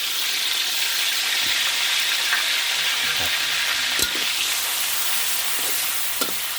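Green chilies crackle and sizzle steadily in hot oil in a wok for Thai basil stir-fry with glass noodles and minced pork, a loud continuous frying hiss with occasional soft knocks of a spatula.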